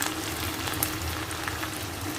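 Chicken fries in a pan with a constant hiss and crackle, small pops scattered through the steady sizzle, heard close and alone without talk.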